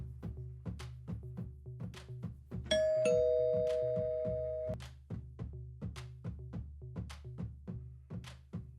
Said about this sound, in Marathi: तितक्यात पुन्हा बेल वाजली